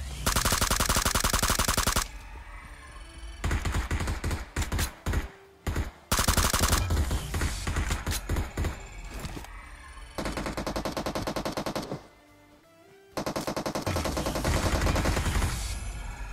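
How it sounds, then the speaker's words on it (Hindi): M762 rifle fire in PUBG Mobile on burst mode, loud close bursts of shots broken by short pauses, with several stretches of dense shooting and brief quieter gaps between them. "एम सेवन सिक्स टू थी ना वो ब्रस्ट मोड पे थी और इसलिए जैसे मैं गोली मारता हूँ दो ही गोलियां निकलती है"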